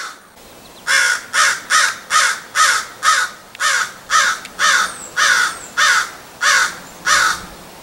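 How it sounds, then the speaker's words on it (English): Young crows give a long series of about eleven loud, harsh, drawn-out caws in a steady rhythm, close by and clear, with no talk. "young crows make a really interesting and kind of creepy, eerie sound"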